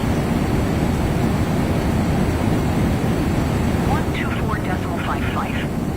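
A Boeing 777-300ER arriving at Chicago O'Hare in Microsoft Flight Simulator 2024 gives a steady, loud jet engine roar with airflow rush, while voices speak over it.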